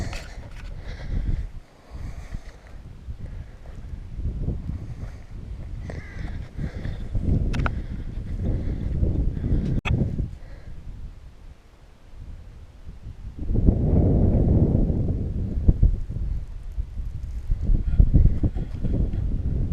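Wind gusts across an open hillside on Moel Famau near the summit, a steady rumbling buffet on the microphone that swells and eases, with a stronger surge in the later part.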